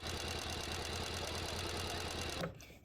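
Domestic sewing machine stitching a cotton dish towel, running in a fast, steady mechanical rhythm close up before stopping abruptly near the end.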